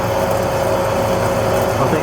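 A Swift 16V5 metal lathe runs while taking a light cut, giving a steady, close mechanical hum with a constant whine and rapid gear-like ticking throughout.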